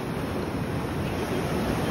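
Strong rainy-season waves at Khao Lak Beach in Thailand, a continuous loud roar of surf with wind rumble on the microphone and no speech.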